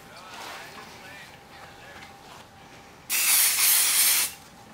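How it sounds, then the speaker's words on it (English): An aerosol can sprays in one loud, hissing burst lasting about a second, following a quieter stretch of soft background hiss. "I'm going to use a little bit of this spray."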